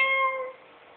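A single drawn-out cat meow, close and clear, tapering off over about half a second and leaving a faint tail.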